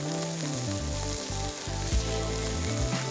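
Curry leaves hit hot oil after green chilies in a pan for broken wheat upma, giving a bright, continuous crackling sizzle up close, with a low melodic tone running beneath it.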